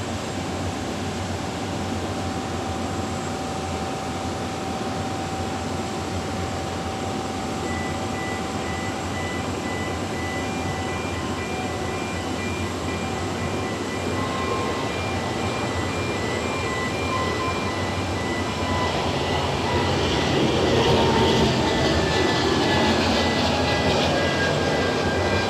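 A Swiss Airbus A320 rolls for takeoff on runway 28 at Zurich Airport, heard from a distance as a steady broad roar of jet engines that swells slightly louder toward the end.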